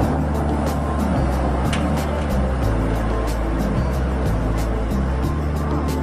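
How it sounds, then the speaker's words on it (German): Heavy trucks from a haulage firm roll onto a rail-to-road loading yard, their engines rumbling loudly and unevenly with shifting low drones under constant background noise. "Jetzt rollen die von der Spedition Otto Halbom bestellten LKWs auf den Platz."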